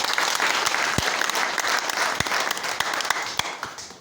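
A church congregation claps in dense, sustained applause, with many overlapping hand claps and a few sharper individual smacks standing out, no voices on top.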